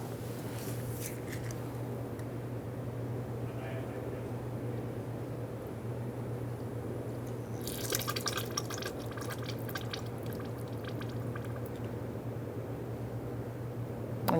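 Brake fluid siphoned from a 2014-2018 Subaru Forester master cylinder drips into a drip pan, a faint continuous trickle under a steady low hum, with brief rattling handling noise partway through.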